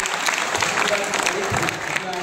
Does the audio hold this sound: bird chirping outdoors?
no